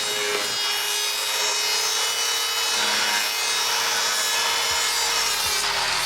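Quarter-inch plywood being cut for a closet shelf with a saw, a loud continuous whining, rasping cut that runs steadily throughout, close by and with no talking.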